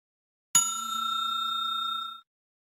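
A single bright bell strikes once and rings on with a trembling, pulsing decay for under two seconds, then cuts off into silence. It is clean and isolated, with nothing else heard.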